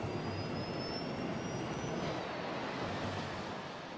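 Broadband roar of the Qantas Flight 32 airliner, an Airbus A380, rushing down the runway after engine failure, steady and loud throughout with a faint high whine drifting across it.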